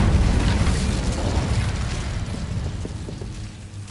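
A fire spell burst in a wizarding video game: a loud whooshing blast of flame with a rumbling low end that slowly fades over several seconds, no voices.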